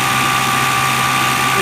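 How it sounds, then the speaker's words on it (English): An inducer motor on a Bryant Plus 95S natural gas furnace runs with a steady, close, even mechanical hum and drone, with no break across the short stretch. "Bryant furnace inducer motor"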